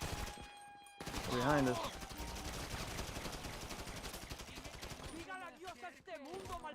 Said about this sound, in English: we're getting shot from the left